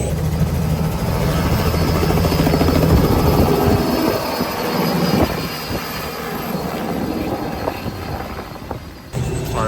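Helicopter rotor and turbine noise at a tourist helicopter ride site in Destin, a loud continuous drone holding steady throughout, heard nearby.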